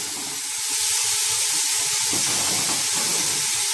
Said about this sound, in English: I'm adding green peas, potatoes and carrot.